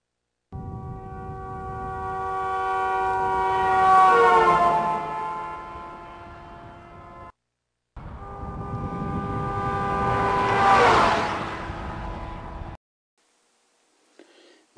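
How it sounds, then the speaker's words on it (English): A van's horn blares in two long passes, each rising in loudness and dropping in pitch as the vehicle drives by, with a short gap between them and no speech. "here's a common example where the pitch of a horn is going to change as the"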